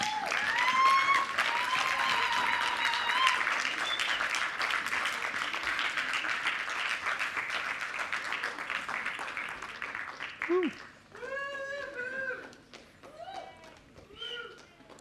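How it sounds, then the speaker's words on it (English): A conference audience at Slush PLAY 2016 claps loudly and steadily for the volunteers, with cheers and whoops over the applause before it thins out and people start talking. "because they deserve a hand of applause."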